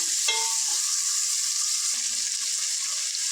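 Small fish sizzle steadily in a pan with salt for a fish curry, a loud, continuous frying hiss with a brief stirring clink near the start.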